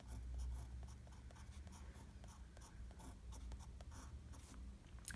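A Chinese character written by hand, a quiet run of soft scratching strokes close to the mic against a faint steady background hum, with no talking.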